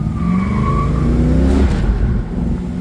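A 1990 Ford Mustang 5.0 with a manual transmission, its engine droning loud and steady close by with a faint tyre squeal, and nobody talking.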